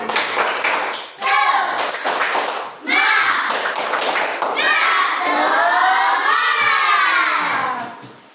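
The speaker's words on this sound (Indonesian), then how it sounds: "Yuk, tepuk semangat." Third-grade schoolchildren in a classroom perform a rhythmic clap-and-shout chant, with bursts of group clapping alternating with loud chanted voices in a repeated pattern.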